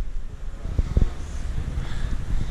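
Strong wind rushes and buffets the microphone in a continuous roar, with low thumping gusts, during a cold group bicycle climb from Velletri to Macere.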